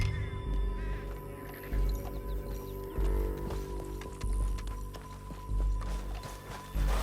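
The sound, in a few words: horse hooves clip-clopping, from a video game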